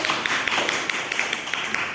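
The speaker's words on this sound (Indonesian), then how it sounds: "tepuk tangan terus" Seventh-grade students in a classroom clap in a quick, regular rhythm, with crisp repeated claps at a moderate, fairly near level and no talking over them.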